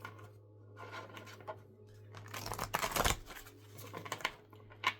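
Tarot cards being shuffled by hand, a steady papery riffling and flicking that swells to a loud burst midway, with a low constant hum underneath and no talking.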